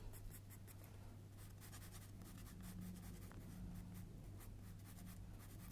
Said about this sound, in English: I can just go in and sort of create mid-ish tones or more little bits of texture just using my charcoal pencil here